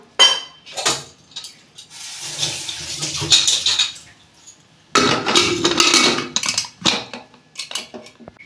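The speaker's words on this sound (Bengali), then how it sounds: "অল্প জল দেবো, বেশি জল দেবো না।" Water is poured from a vessel into a cooking pot of eggplant for a Bengali begun bharta, coming as two splashy pours separated by a short pause, with some clinks of the pot around them.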